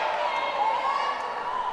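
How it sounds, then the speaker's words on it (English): Indoor court game crowd at the UWI Games, a steady continuous roar of cheering with no breaks, sustained and fairly loud throughout. "Crowd going up another level here since the start of the second quarter"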